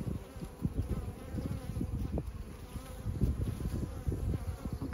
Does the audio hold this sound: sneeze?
no